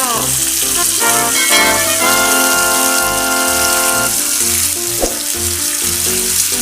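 Bacon-wrapped enoki mushrooms sizzle and crackle loudly on a backyard grill while sauce boils beside them, a dense, steady frying hiss with tonal music playing and some talk faintly underneath.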